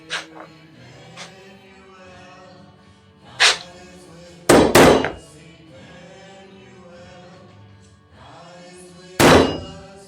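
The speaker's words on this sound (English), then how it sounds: "Need to center punch them" A center punch is struck into hard steel, giving several sharp metallic clanks spaced unevenly, with a ringing tone and quiet background hum between strikes.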